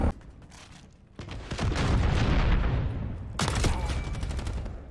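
A burst of R9-0 shotgun blasts rings out in the Modern Warfare video game, loud booming shots layered over busy battle noise. A second sharp blast lands near the end.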